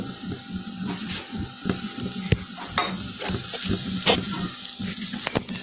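Pancake batter cooks on low flame in a pan, giving a soft, steady sizzle with a few light scrapes and clinks of a spoon, no voices over it.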